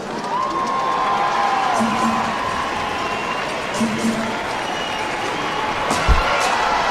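Crowd cheering and applauding for Biniyam, the winner of a fight, a steady wash of voices and claps with a few shouts over it.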